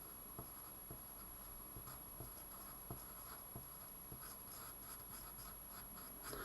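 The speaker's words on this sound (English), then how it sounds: "we can pencil that into our diagram" Pencil writing on a paper diagram with soft, close scratching strokes and small taps, faint and steady with no talking.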